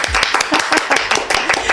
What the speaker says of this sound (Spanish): Por favor, aplauso.